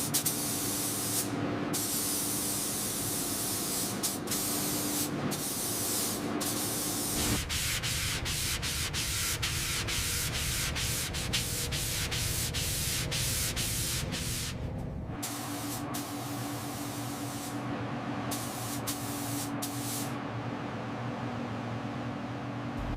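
A Rolls-Royce car body is spray painted, with a loud continuous hiss of the spray gun broken by brief stops and restarts, alongside intermittent rubbing and sanding noises, close and without talk.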